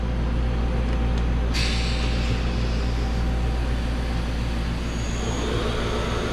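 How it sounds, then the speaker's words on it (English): Fadal 6030 CNC machine spindle starting in low gear, a steady quiet hum with a faint tonal whine under a low background rumble, no talk. "let's start the spindle up. M3 speed 1000. This will be low gear."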